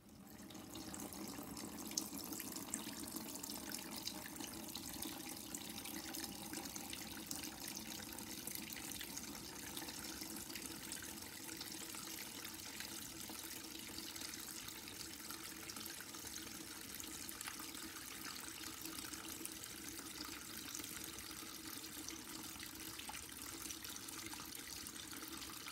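Melted beeswax from rendered cappings runs through a white cloth filter and a strainer down into a mould, a faint steady trickle that continues unbroken for the whole stretch.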